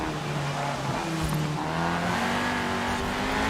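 A 1991 Peugeot 205 Rallye in Forza Horizon 4 revs hard during a rally race, engine pitch rising and falling in quick shifts with tire noise underneath, loud and close, alone without talk.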